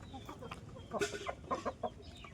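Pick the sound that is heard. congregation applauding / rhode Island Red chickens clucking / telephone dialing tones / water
rhode Island Red chickens clucking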